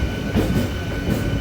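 A near-empty local train from Kharagpur to Howrah runs at night, a steady loud rumble with faint rail clatter and no voices.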